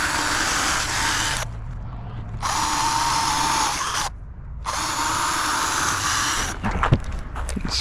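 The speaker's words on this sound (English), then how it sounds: "Just gonna do some pre-drills." A power drill whines loudly in several bursts, stopping briefly between runs, with some clattering near the end as the bit works through wood.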